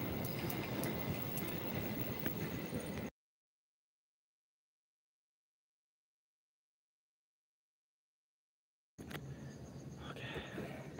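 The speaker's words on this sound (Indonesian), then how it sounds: "Tuh ada kereta tuh" A train rumbles past near an abandoned hospital in Indonesia, a loud broadband roar with a long dropout in the middle, then the rumble resumes with squealing, high-pitched wheel and rail noise.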